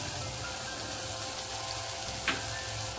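Broad beans and brinjal sauté in a clay pot for a dried-fish curry, giving a soft, even sizzle that stays low and steady throughout, with one brief tap near the end.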